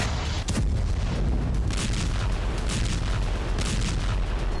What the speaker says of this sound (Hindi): तो कहीं आर्टिलरी शेल और एमएलआरएस से बारूदी भूचाल।